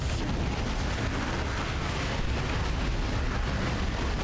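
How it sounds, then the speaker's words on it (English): Several bombs going off together in Warhammer 40K: Dawn of War 2 Retribution, a loud, dense, sustained roaring rumble of explosions with no clear gaps, heard without talk. "I'm guessing all of his bombs went off all at once, right on top of him"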